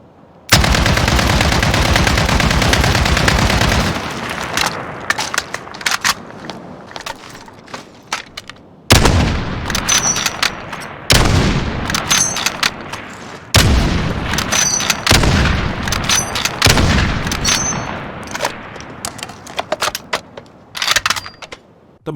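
Loud gunfire in Call of Duty Warzone, with dense bursts of rapid automatic shots broken by short pauses and sharp metallic clicks, close and dominant throughout.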